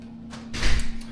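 A front door opening and shutting as someone walks into a home, giving a brief rush of air and a dull thud, close and moderately loud over a steady low hum.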